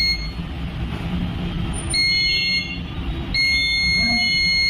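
A multimeter set to its continuity buzzer range tests coils on a Xiaomi Poco M2 phone board, giving two sustained high beeps, each a few seconds apart and lasting over a second, above a loud, steady background hum.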